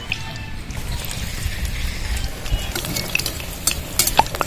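Battered eggplant slices for crispy beguni fry in hot oil with a loud, dense, continuous bubbling sizzle, dotted with occasional sharp crackles and pops, close up and without talk.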